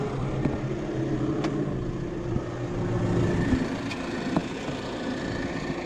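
A farm tractor idles steadily in a field after ploughing, a low even engine hum with a few faint clicks and knocks, no voices.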